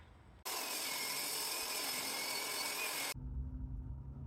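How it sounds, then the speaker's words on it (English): A table saw rips a 3/4-inch-thick piece of alder into thin strips about 3/16 inch thick, giving one loud, even cutting roar of nearly three seconds that stops abruptly into a quieter motor hum. "For thin strips, you really need a table saw"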